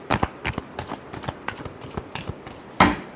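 Tarot cards being shuffled by hand, a series of crisp riffling and slapping bursts at an irregular rhythm, close and clear with no voices.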